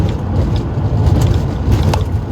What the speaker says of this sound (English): Gosh, bumpy road, making the phone move.